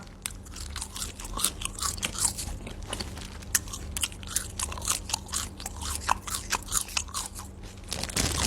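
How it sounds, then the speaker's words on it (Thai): Loud, close chewing of sliced raw beef with a dipping sauce: a steady run of wet crunching and biting sounds, rhythmic and continuous, with no talking. "กินเสียงดังก็ขอพันหน่อยนะ"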